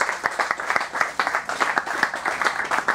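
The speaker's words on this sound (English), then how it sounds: "Give Linda a lovely round of applause" Crowd applause for the winner of a bake-off at a racing owners club event at Oulton Park, with dense, steady clapping from many hands that carries through the whole stretch, fairly close and lively.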